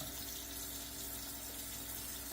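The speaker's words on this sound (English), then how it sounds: "And fill the stock pot with water." Tap water runs steadily into a stock pot being filled about halfway for chicken noodle soup, a soft, even, continuous hiss with no talking over it.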